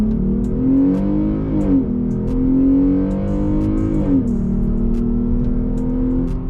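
A Jeep Grand Cherokee floored from a standstill to 60 mph with sport mode off, its engine roaring loud and close, climbing in pitch and dipping briefly at two gear shifts before pulling up again.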